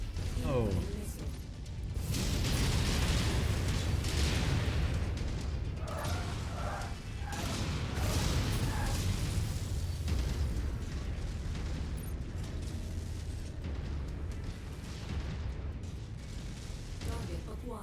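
Missile strikes in a live-streamed vanilla campaign video game, a dense run of loud booming blasts and crashing debris rolling on for most of the stretch, with a voice talking over parts of it.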